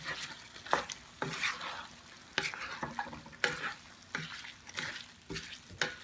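Vegetable pilaf fries in a pan on high heat and is stirred, with a steady sizzle broken by repeated scraping strokes of the spoon at an uneven rhythm, close up.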